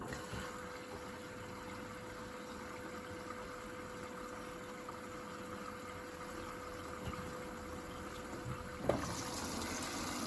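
An Indesit IWDC6125 washing machine fills with water, a steady low hiss and hum of inflow with a faint constant tone, ending in a brief clunk near the end; no one speaks.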